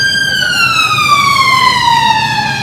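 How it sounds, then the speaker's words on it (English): An ambulance siren wails loudly and close, a steady descending electronic tone with strong harmonics dominating the moment over background noise. "That ambulance is real."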